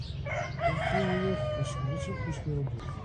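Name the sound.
rooster crowing among gathered chickens and ducks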